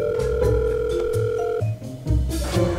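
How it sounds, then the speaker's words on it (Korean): A phone rings for an outgoing video call, a steady electronic tone pattern, loud and close, repeating in short bursts with a brief gap, no voices. "오리온한테 전화해봐야겠다."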